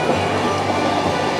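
Kanchan Kanya Express running slowly on a single-track forest line, a steady low rumble and rolling rail noise close by, continuous with no distinct clicks.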